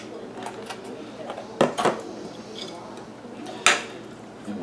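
Deer meat for jerky tipped into a bowl, a few sharp clatters and knocks of bowl and utensil against a quiet room background, with a person talking.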